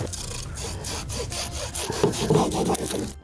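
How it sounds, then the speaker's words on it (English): A handsaw cutting through vegetables in a makeshift kitchen, steady rasping back-and-forth strokes in a quick rhythm, close and loud, no talking. "Use the saw."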